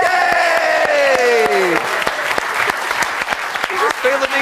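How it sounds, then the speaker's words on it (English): A studio audience claps and cheers for a pneumatic tube capsule, a lively spread of sharp hand claps alongside voices talking and whooping over them. "I just feel the need to applaud this capsule."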